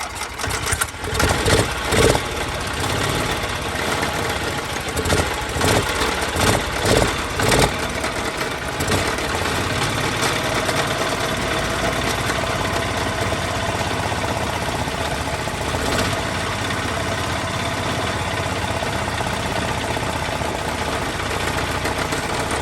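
A junk Hyundai golf cart engine with a fuel problem runs steadily and loud throughout, with a burst of uneven knocking pulses in the first few seconds before it settles into a rough, continuous idle.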